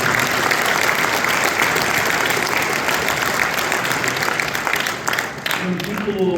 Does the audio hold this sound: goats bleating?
no